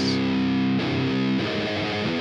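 A modern metal electric guitar tone comes through a free VST amp plugin as a few heavily distorted, saturated chords. Each chord rings out thick and sustained before the next change, close and loud with no voice.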